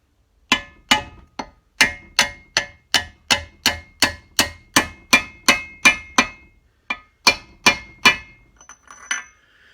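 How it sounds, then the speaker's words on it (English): A hammer taps a bearing inner race down onto the crankshaft of a BSA A70L Lightning engine during a bottom-end rebuild: about twenty light, sharp metallic taps in a steady rhythm, close and clear, with no talking. "the inner race just needs to be tapped down onto the shaft, as it's a nice tight snug fit"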